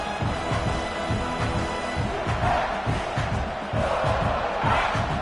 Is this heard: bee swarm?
no